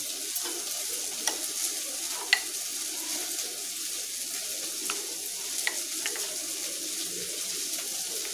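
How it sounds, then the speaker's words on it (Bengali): A paste of cumin, coriander, chili and ginger is stirred with water in a bowl, with soft scraping clicks scattered over a steady background hiss like frying. "জিরে, ধনে, লঙ্কা এবং আদা বাটাটা আমরা একসাথে মিশিয়ে নিলাম"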